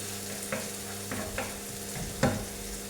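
Onion frying in a pan, a steady soft sizzle with a few louder stirring scrapes spaced across the clip, close and moderate in level with no talk.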